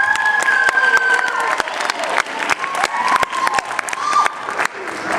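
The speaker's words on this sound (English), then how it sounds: "So let's give her a round of applause." Applause and cheering from an audience at a school event, a dense sustained wash of clapping mixed with whistles and shouts, with some crowd voices and chatter running throughout.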